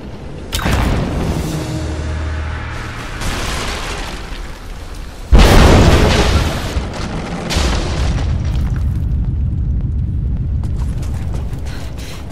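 Greek fire detonating in Rise of the Tomb Raider: a heavy, booming blast erupts partway through, preceded by rumbling action and followed by a long, loud roar of fire and falling debris.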